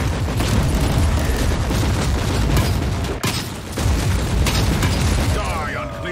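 Continuous rumbling booms and bursts of gunfire-like pops fill the mix, a dense, loud barrage of explosions in Warhammer 40,000: Inquisitor, with a brief dip midway.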